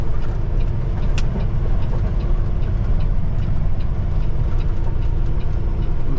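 A semi truck eases into a parking spot at a truck stop, its engine a steady loud low rumble throughout with faint clanks and road noise, no voices.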